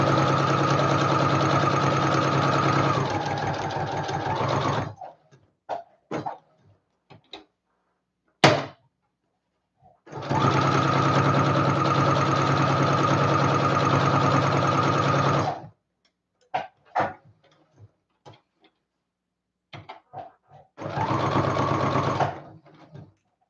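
A sewing machine stitches the corner of an avant-garde dress, running in three long steady bursts of loud, close whirring, separated by stretches of brief clicks and handling knocks.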